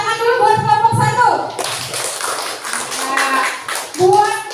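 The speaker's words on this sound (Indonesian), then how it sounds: "beri tepuk tangan dulu buat kelompok 1" Classroom children clap briefly for a group that has just presented, a short burst of close handclaps between stretches of a teacher and kids talking.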